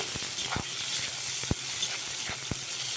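Fried potatoes and eggplant cook in cumin spice paste, a steady close sizzle punctuated by a few sharp clinks and scrapes as the pieces are stirred.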